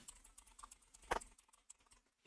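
Typing a search into a web browser on a computer keyboard, a quick, uneven run of soft, close keystrokes with one sharper key press, fairly quiet and with no talking.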